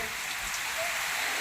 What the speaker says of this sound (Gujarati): વરસાદ પણ આજે ફૂલ આવી ગયો છે